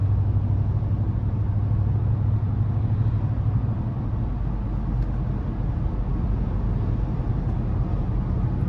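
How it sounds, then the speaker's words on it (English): A steady low exhaust drone fills the cabin of a lifted 2015 GMC Sierra 1500 pickup with a 5.3 V8, constant and rumbling throughout, with no speech. "the drone of the exhaust pretty much takes away"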